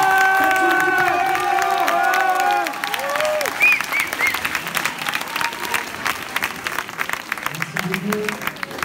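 A large crowd at a strike rally meeting applauds and cheers loudly, with whistles and shouts. Sustained clapping runs throughout, and voices call out over it.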